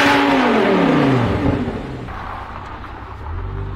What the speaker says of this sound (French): cette Audi R8 V10 qui fait un bruit de l'enfer